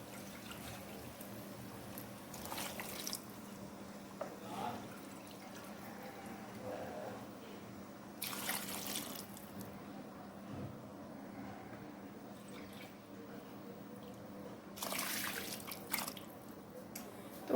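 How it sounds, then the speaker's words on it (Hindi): Yakhni meat stock is poured into frying rice in a pot for an Uzbek-style Kabuli pulao. Soft, quiet splashing and trickling come in a few separate bursts over a low background hum. "तो इसमें हमने वही यखनी डाली है।"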